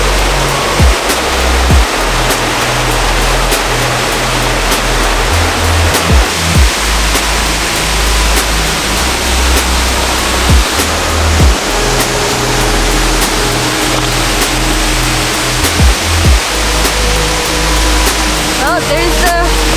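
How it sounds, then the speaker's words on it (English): Steady roar of Bang Pae Waterfall in Phuket, a dense continuous rush of falling water heard close and loud throughout, with low rumbling underneath and faint voices briefly mixed in. "There's the Bang Pae Waterfall."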